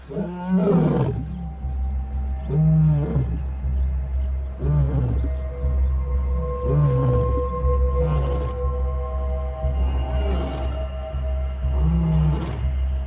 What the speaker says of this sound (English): A lion's roar can be louder than a jackhammer.